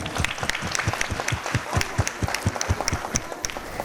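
An audience claps loudly for a woman awarded a 501-rupee prize at a community gathering, a dense, fast patter of many hands continuing steadily throughout with no voices over it.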